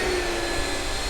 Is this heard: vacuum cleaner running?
yes